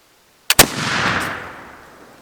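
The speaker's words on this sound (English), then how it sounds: "This time I'll remember I'm shooting a Flintlock" A flintlock gun fires at a baseball: the sharp snap of the priming flash comes an instant before the loud main blast, and the boom rolls off over the next second or two outdoors.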